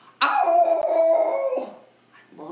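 A human voice imitates a dog howl: one sustained, wavering, tonal howl lasting over a second, loud and close, then fading, with a brief vocal sound after it.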